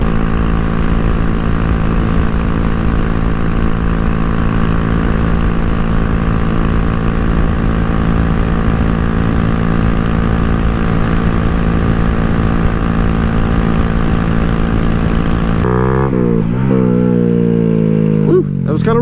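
Loud, steady engine drone with strong tonal harmonics from a vehicle cruising down the highway, continuous for most of the clip before shifting and changing pitch near the end.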